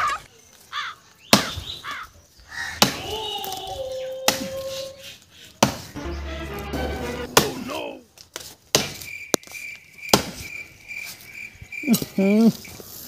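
Crickets chirp in a steady high pitch that is partly covered by loud, choppy clicks, knocks and brief voice-like sounds, with the insect trill clearest near the end.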